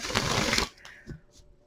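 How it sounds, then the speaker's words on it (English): Tarot cards are shuffled in a quick riffle lasting about half a second, a close, crisp flutter that stops abruptly, followed by a couple of soft taps and near silence. "So one more shuffle."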